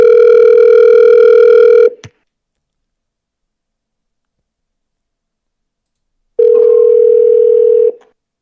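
A steady telephone dial tone sounds loudly for about two seconds, ends with a click, and after a long silence returns for another stretch before cutting off again, as phone calls are being placed.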